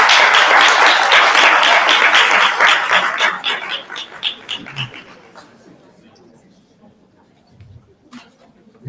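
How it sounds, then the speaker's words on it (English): Audience applause at a symposium rings out loud and dense, then fades away over several seconds into scattered claps and quiet murmuring. "Please give them a round of applause."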